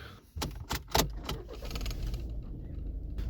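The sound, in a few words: Volkswagen Passat 1.6 TDI engine starting with key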